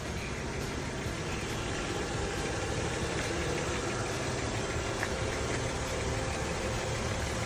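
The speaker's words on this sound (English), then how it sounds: "Engine is running fine." An Audi A4 engine idles steadily after front-end body repair, a constant low rumble with faint knocking texture holding at even loudness throughout, with no talking.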